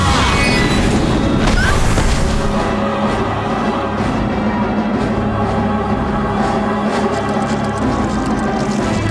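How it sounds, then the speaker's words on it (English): Magic missile spell effect from Neverwinter Nights, a dense, loud burst of crashing, booming energy that starts sharply and rolls on as a sustained roar under game ambience. "Magic missile."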